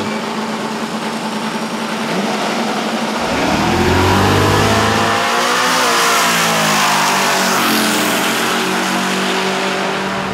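At a midnight drag strip event, a nitrous car and a turbo car roar loudly, with revving engines rising into a hard acceleration run that holds a strong, close roar to the end.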